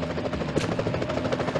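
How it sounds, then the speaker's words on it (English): Police helicopter in the 2002 Spider-Man video game, a steady rotor drone with faint rhythmic chopping, held continuously at moderate loudness over game background sounds. "Whoa, police choppers."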